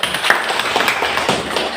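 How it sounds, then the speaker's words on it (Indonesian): A school class gives a short round of hand clapping, quick irregular claps from many students close by, with faint voices mixed in. "Oke, pintar, tepuk tangan dulu."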